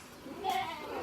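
A short, faint bleat from a goat, heard once and briefly over a quiet background.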